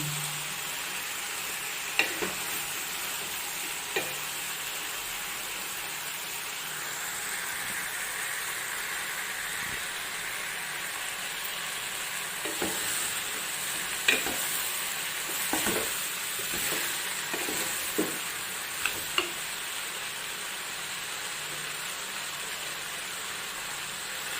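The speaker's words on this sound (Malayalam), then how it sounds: "ഇതൊന്ന് നമുക്ക് ഒന്ന് ഇളക്കി ഇതൊന്ന് വഴന്ന് വരണം" Avial vegetables being stirred and sautéed in a pan make a steady sizzle throughout, with sharp scraping stirs breaking through at intervals, close and alone.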